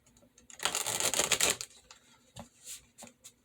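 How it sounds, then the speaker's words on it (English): A deck of tarot cards is shuffled by hand, a dense riffling burst for about a second followed by scattered lighter card taps and flicks, close and alone. "I'm going to pull from this deck. Let me shuffle that for you."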